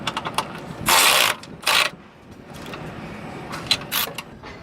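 Ratchet wrench clicking as it tightens a control arm bolt on a lowered 2019 Chevy Silverado, with two loud bursts of rapid ratcheting followed by a few scattered shorter clicks, close and alone without talk.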